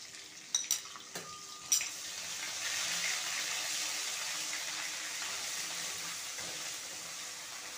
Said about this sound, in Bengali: বাকি তেলে দিয়ে দিচ্ছি কালো জিরে এবং কাঁচা লঙ্কা ফোড়ন